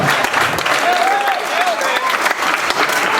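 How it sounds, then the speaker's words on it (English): Wedding guests applaud after the first speech at a ceremony, a dense steady wash of clapping from a crowd throughout, with voices cheering and calling out over it. "One more round of applause."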